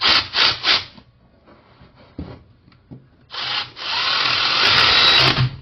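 Power tool spinning a serrated flange nut snug against aluminum during a Corvette C3 LS engine swap, three short whirring bursts, a quiet gap with light clicks, then a longer steady close whir.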